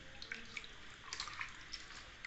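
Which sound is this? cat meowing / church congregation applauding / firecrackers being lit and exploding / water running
water running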